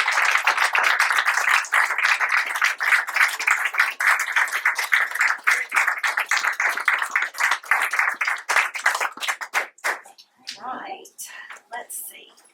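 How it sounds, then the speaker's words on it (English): A room full of people at a school board meeting applauds students with loud, sustained clapping that thins into scattered claps and a few murmuring voices near the end. "A round of applause."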